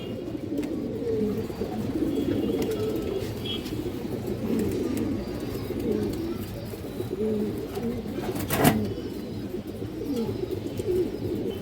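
A male and a female pigeon coo continuously in low rolling phrases, close and steady, with a brief sharp knock partway through.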